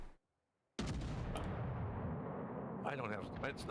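Heavy naval guns firing from the British tier-five battleship Agincourt in World of Warships, a booming salvo that breaks a brief silence and rolls on into a long rumble, with someone talking over it near the end.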